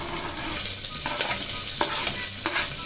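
Small onions (shallots) sautéing in a pan: a steady hiss of frying with several scraping stirs of a utensil against the metal, close and moderately loud, no voices.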